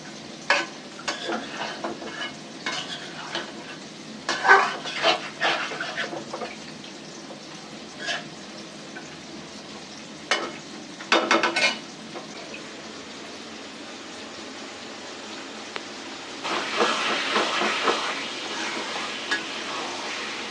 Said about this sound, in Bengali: এক চুলায় কাঁকরোল ভাজা হইতেছে,